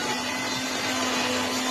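An electric mixer grinder hums and whirs steadily as it coarsely grinds chutney ingredients, a loud continuous motor drone filling the clip alone with no speech.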